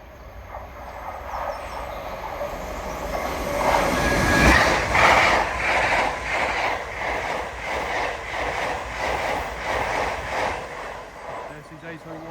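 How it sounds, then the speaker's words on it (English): Class 801 unit 801228 passes through Alexandra Palace on the East Coast Main Line, a rising rush of passing carriages with a rhythmic clatter of wheels over rail joints, fairly close, with faint voices in the background. "passing through now is 801228 Century en route from London King's Cross to Edinburgh"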